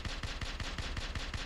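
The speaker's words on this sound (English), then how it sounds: "Stop shooting at me!" Rapid automatic gunfire in the video game Wolfenstein, a steady rhythm of about seven or eight loud, evenly spaced shots per second, close and continuous with no talking.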